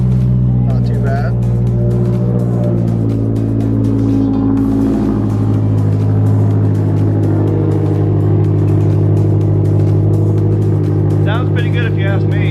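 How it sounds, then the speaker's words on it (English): Engine of a 2014 Scion tC just after a cold start, a steady loud idle drone with a rising then settling pitch, heard close up with voices talking over it. "it is time for a cold start"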